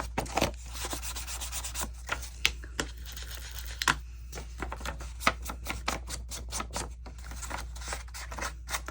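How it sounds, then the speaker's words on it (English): Paper edges of a journal pocket are inked with repeated soft scuffs and dabbing rubs, close and fairly quiet over a low steady hum, with no voices. "we want to ink both sides, so we accentuate the notch and the edge of the pocket"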